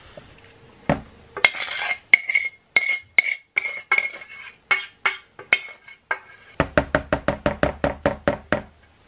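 A spoon scrapes and knocks against a bowl while kimchi mixture is stirred into rice, a series of close clinks and taps, then a faster run of evenly spaced knocks toward the end.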